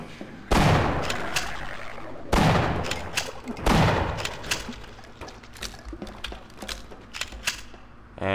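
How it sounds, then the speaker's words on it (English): Repeated shotgun blasts in Half-Life, three heavy booming shots in quick succession followed by a scatter of sharper gunfire cracks and clatter, loud and close with no talking. "I'm using a shotgun"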